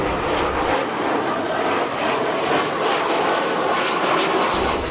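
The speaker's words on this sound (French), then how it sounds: "l'avion de la compagnie Bruxelles Airlines, avec à son bord Augustin Kabouya, venait de se poser sur la piste" A Brussels Airlines airliner landing at Ndjili airport in Kinshasa gives off a loud, continuous roar of aircraft engines, heard close and steady throughout with no voices.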